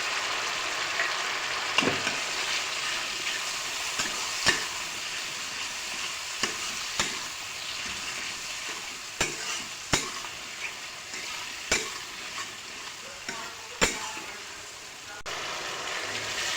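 Ground chili and cumin masala frying with melted tomatoes, salt and turmeric in a pan, a continuous close sizzle with periodic sharp scrapes of a stirring spoon.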